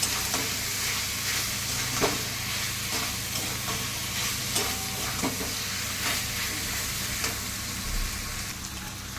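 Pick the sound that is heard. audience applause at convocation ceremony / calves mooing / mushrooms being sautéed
mushrooms being sautéed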